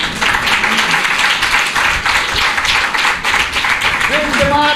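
A church congregation claps in a dense, continuous burst that stays loud and close throughout, with voices rising over it near the end.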